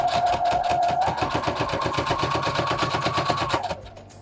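Sewing machine running a steady, rapid top stitch with black thread along a vinyl zipper pouch, the close, even needle rhythm continuing for several seconds before stopping abruptly.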